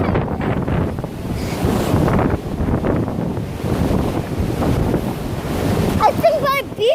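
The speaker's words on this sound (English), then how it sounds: "Listen to the wind in the water." Strong wind roars over water and surf at a beach during a windstorm, a loud continuous rushing buffet with microphone wind noise throughout and a short high squeak near the end.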